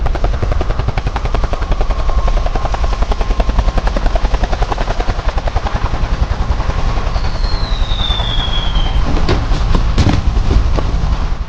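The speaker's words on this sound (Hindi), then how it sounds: "ग्रैंडपा के साथ साथ तो हेलीकॉप्टर से जेसन भी यहाँ आ गया।" Cartoon helicopter arriving, a loud, steady rapid rotor chop throughout, with a whistling effect and a couple of sharp knocks near the end.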